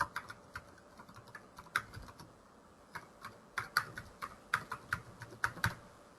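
A line is typed on a computer keyboard: irregular, crisp key clicks in short bursts, close and fairly quiet, with a slightly faster run of keystrokes toward the end.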